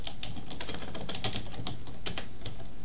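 Quick, light keystrokes on a computer keyboard while HTML code is entered, a steady patter of soft clicks at close range in an otherwise quiet room.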